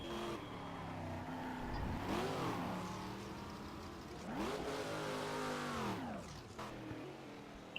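Racing cars in the Game Stock Car video game at Ribeirao Preto, engines revving and roaring past in repeated sweeping passes, rising and falling in pitch over steady engine drone, moderately loud with no talk.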